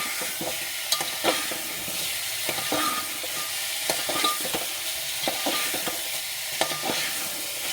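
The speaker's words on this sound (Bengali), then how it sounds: "বিনস সবগুলো একসাথে মিক্স করে বেশ কিছুক্ষণ নাড়াচাড়া করে ভেজে নিতে হবে।" Papaya, carrot and beans stir-fried together in a pan with butter and garlic: a constant close sizzle broken by frequent sharp scraping and clattering strokes of a spatula, with no voices.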